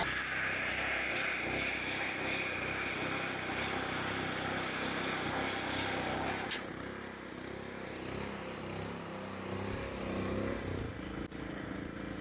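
A lawn mower cutting a putting green set at a 2 mm height, a steady close motor drone with a dense buzz that drops slightly in loudness partway and then continues, no talking.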